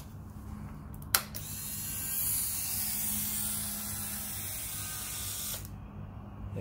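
A ZXR turbo motorcycle's fuel pump primes after the key is switched on, following a sharp click: a steady, faint electric whir hums close by, then ends with another click.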